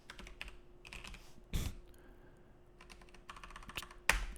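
Quick bursts of keystrokes clatter on a computer keyboard during a programming session, close and fairly quiet, with irregular clusters of taps and a couple of louder key strikes, no speech.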